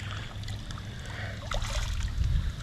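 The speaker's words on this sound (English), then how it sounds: "Got a nice waterfall." A backyard pool waterfall built from rocks brought in from Kentucky and North Carolina trickles and splashes softly and steadily close by, with no voices.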